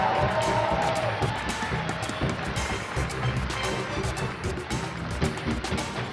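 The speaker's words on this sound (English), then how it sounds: "it's time to welcome them back to the stage with a huge round of applause" A stage audience at a Mister Supranational 2023 top-ten announcement gives a long, steady round of applause with scattered cheers, welcoming contestants back; the dense, even clapping fills the room without pause.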